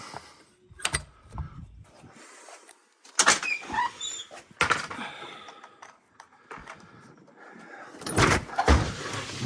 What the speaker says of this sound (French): Vous ouvrez les persiennes.